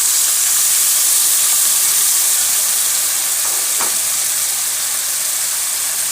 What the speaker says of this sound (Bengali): এর মধ্যে আমি একটু গরম জল অল্প দিয়ে দেবো।